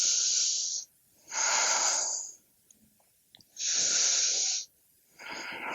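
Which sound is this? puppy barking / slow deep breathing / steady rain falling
slow deep breathing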